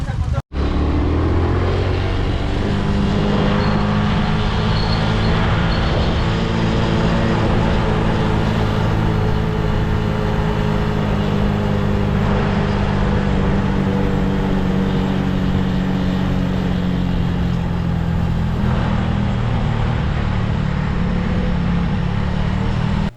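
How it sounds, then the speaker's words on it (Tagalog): A habal-habal motorcycle taxi engine runs steadily throughout a ride in Cebu, a loud constant drone under people talking. "tara manakay na ta sa motor mga guys is, kay para makadto na ta dito"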